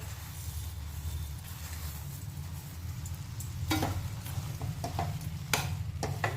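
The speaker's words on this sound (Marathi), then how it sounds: "मी गूळ आणि साखर अर्धी अर्धी घेतली आहे दोन्ही घालणार आहे" Jaggery and sugar being stirred into a simmering lemon pickle in a pan, a steady low bubbling hum under repeated scraping strokes and a few sharp spoon taps near the end.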